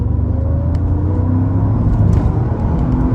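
A stock 2003 Mercedes E55 AMG sedan pulls hard in second gear with a loud, sustained engine roar that climbs steadily in pitch as it accelerates, heard from inside the car.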